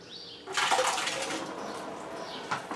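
Liquid from an apple rye whiskey mash drains into a sparge bucket, a sudden rush of splashing, running water that starts abruptly and keeps pouring steadily up close.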